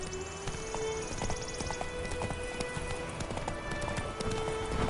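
Roach, Geralt's horse in The Witcher 3, trots and gallops with steady, rhythmic hoofbeats close by, a low game soundscape underneath and no talk.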